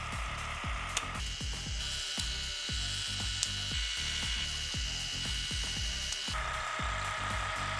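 A Shark Glow Pro facial device at its strongest suction level pops off the skin again and again in a quick, irregular series of soft close sucking pops over a steady motor whine.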